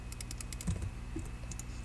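Keyboard keys and mouse buttons click rapidly while a player shift-clicks items into an inventory in a computer game, a quick close run of light taps over a faint steady hum.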